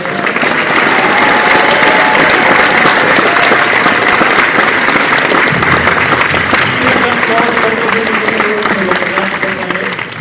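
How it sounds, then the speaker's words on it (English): Sustained loud applause from a large audience, steady clapping throughout with a faint murmur of voices underneath. "let's give one more round of applause"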